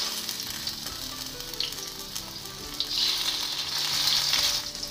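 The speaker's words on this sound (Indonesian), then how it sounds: "Tahu goreng kekuning-kuningan," Tofu pieces frying in hot oil in a pan, a steady loud sizzle throughout with brief stirring scrapes and crackles, swelling slightly toward the end.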